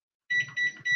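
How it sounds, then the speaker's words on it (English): A kitchen timer gives three quick electronic beeps in a steady rhythm, close and clear with nothing else heard, as it is set for twenty minutes while a puff pastry tarte tatin bakes. "And I'm going to set the timer for 20 minutes."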